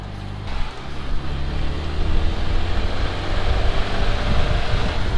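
Triumph Spitfire car cruising on a main road, a loud close engine drone with road and wind rumble rising gradually and holding steady, without talk.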